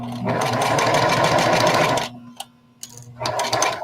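A sewing machine stitches a bucket hat seam in a loud, steady run for about two seconds, then stops, followed by a couple of short clicks and a brief restart.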